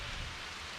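Steady tropical rain falls on a steep jungle hiking trail in Krabi, Thailand during a storm, a dense even hiss with no voices.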